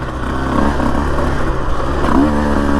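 A Husqvarna TE150 dirt bike revs and pulls through single track in Florence, Arizona, its two-stroke engine buzzing close and loud with rattly clatter and steady throttle changes throughout.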